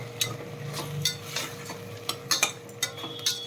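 Salt and turmeric being fried in a pan, with a soft steady sizzle and a scattering of light metallic clinks and stirring scrapes from a utensil against the pan.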